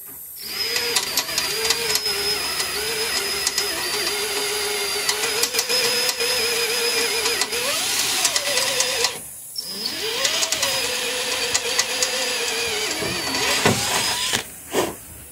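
An electric drill whines steadily, straining and shifting pitch as it bites into metal to remove a broken screw, with a brief stop partway before drilling resumes with a bigger bit.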